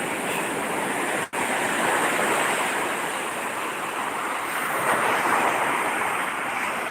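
Big ocean waves crash and roar continuously at a south-coast beach in Sumedang, a loud, steady wash of surf with slight swells in intensity and no talking.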